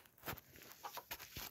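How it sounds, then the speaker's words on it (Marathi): Hens cluck in a few short, scattered bursts, quiet and somewhat distant, with no one talking. "ह्या कोंबड्या लई वाईट आहेत"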